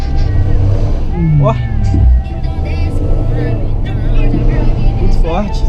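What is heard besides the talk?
Renault Sandero engine revving at half throttle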